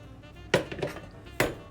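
A metal pot and a mixing bowl handled in a home kitchen: two sharp clanks about a second apart, with small rattles between them, close and fairly loud.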